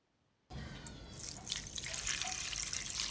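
Running water splashes steadily into a vessel while cauliflower is washed, the flow starting abruptly after a brief quiet moment and continuing loud and close with no talk.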